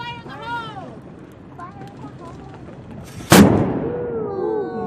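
A gun fired blank with no projectile loaded gives one sharp, loud blast about two-thirds of the way through, then a decaying rumble, while outdoor chatter and whistling-like tones fill the moments before.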